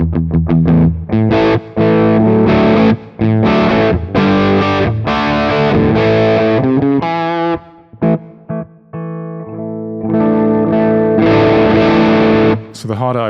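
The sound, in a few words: guitar through asymmetrical clipping DSP overdrive on STM32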